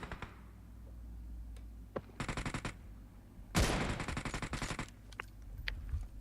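Bursts of automatic gunfire in PUBG Mobile, a short rapid volley followed by a longer, louder burst of rattling shots, with scattered single shots and faint background game noise around them.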